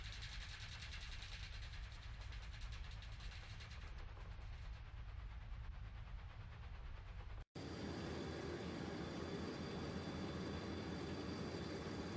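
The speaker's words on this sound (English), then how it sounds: "The train is leaving!" A train pulling away in the adventure game Secret Files: Tunguska, a steady loud rumbling engine drone that cuts briefly and resumes with a brighter, harsher whine.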